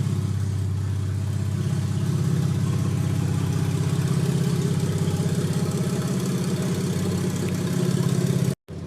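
A Nissan 400Z V6 with a custom single exit exhaust idles close by, a loud, steady low drone with a fast pulsing throb that cuts out abruptly just before the end.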